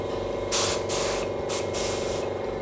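Release spray hisses from a can onto the dots of a mold in short bursts, three or four close, loud sprays separated by brief pauses over a steady background hum.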